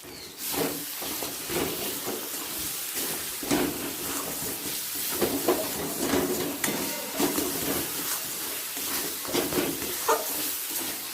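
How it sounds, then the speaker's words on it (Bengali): Spice masala for a Bengali rui fish curry with potato and cauliflower sizzles steadily in hot oil while a spoon stirs and scrapes the pan in irregular strokes, close and moderately loud, with no talking. "ভালো করে মিশিয়ে কষিয়ে নেব মশলা থেকে তেল ছাড়তে শুরু করে দিয়েছে"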